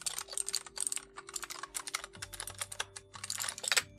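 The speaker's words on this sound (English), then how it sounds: "Standard clicky click." Rapid clicky keystrokes from an H1300 one-handed RGB gaming keyboard, a steady close-up clatter of individual key presses running throughout, with no voices.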